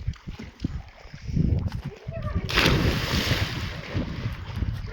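Children swim and splash in a well, irregular splashes and churning water echoing close by, with a bigger surge midway and voices talking over it.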